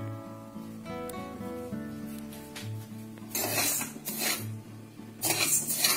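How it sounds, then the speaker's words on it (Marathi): Sugar being stirred in a wok over low heat to caramelize, with soft scraping and metallic clinks of the utensil against the pan, close and intermittent, no talking. "नुसती साखर घालून ती पूर्ण विरघळेपर्यंत आपण त्याला हलवत राहायचंय"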